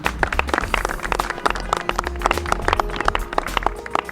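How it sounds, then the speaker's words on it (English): An outdoor crowd at a downtown Lawrence alleyway unveiling gives a short round of applause, dense overlapping hand claps close by, steady for a few seconds with faint background murmur. "Round of applause for them."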